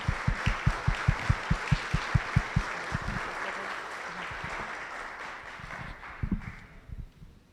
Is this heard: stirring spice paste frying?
no